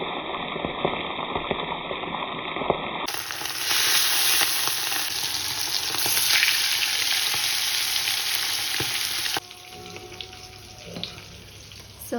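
Chicken pieces hit hot oil for mandi rice, starting with a faint background hum, then bursting into a loud, dense, hissing sizzle that holds steady before settling into a quieter bubbling fry.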